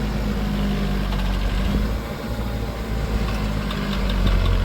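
A tractor engine, a New Holland T7.200 or Massey Ferguson 6712, idles steadily nearby, a low continuous rumble with a slight dip in loudness midway, no talking.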